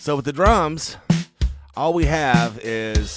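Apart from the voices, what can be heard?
No everyday noises stand out.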